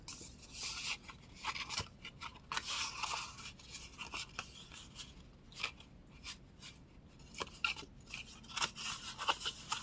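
Scissors snip and scrape through a paper card piece for junk-journal ephemera, a quiet, close series of irregular cutting crunches and rustles with no talking.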